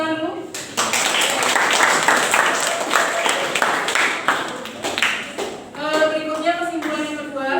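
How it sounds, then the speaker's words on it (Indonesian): Classroom applause during a physics teaching performance session, with a burst of dense, close hand claps lasting about five seconds before a voice begins speaking. "boleh tepuk tangan dulu"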